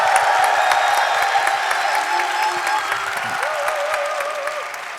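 Audience applause welcoming a pastor to the stage at a Korean conservative conference session, a dense, steady wash of many hands clapping throughout, with faint tonal sounds drifting underneath.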